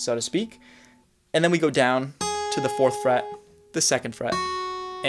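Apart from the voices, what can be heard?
No distinct noise like a dog, phone or traffic.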